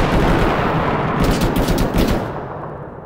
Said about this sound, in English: We're taking fire from an MG.